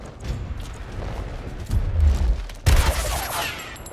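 Gunfire in the video game Gears Tactics: rapid bursts of shots and heavy booming impacts, growing louder midway and ending with a sharp, crackling volley.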